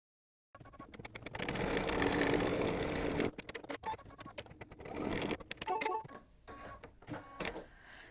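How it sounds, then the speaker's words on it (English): An embroidery machine sewing a tack-down for soccer ball pieces on a mug rug, a steady rapid mechanical whir and needle chatter that starts abruptly, runs loud, then continues in shorter bursts and ticks. "So I'm going to stitch color stop number 9, which is going to give me the tack down for the soccer pieces"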